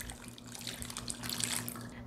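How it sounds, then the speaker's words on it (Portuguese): Tap water is poured over maxixe gherkins in a bowl for washing, a faint steady trickle and splash over a low hum, with no speech. "Vamos cobrir com água"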